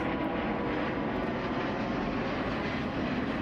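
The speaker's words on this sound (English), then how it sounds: "Those engine sounds, holy." Airbus A350 jet engines in Microsoft Flight Simulator roar as a steady, dense, broadband rumble that holds constant and loud throughout.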